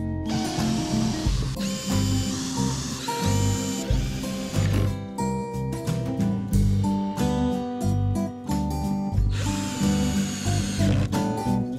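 Power drill driving screws into ash wood while a bench is assembled in a home workshop. Repeated short bursts of a loud, pitched motor whine rise and stop in an uneven rhythm, close by and without talk.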